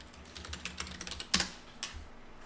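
Computer keyboard typed on while renaming a sheet in an Excel spreadsheet: a quick run of soft, close key clicks with a few sharper, louder presses near the end, no voices.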